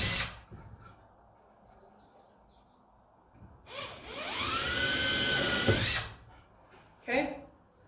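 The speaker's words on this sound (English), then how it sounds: "So then I'm going to find my holes, my marks, and drill my holes." A power drill bores holes for a DIY hanging planter, whining at high speed for about two seconds after a quiet pause with faint background noise; a shorter burst of sound follows near the end.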